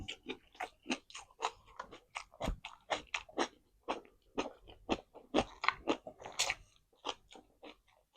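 Close, crisp crunching bites and chewing of crunchy raw water spinach and kale repeat in quick irregular bursts, loud and wet, with no talking.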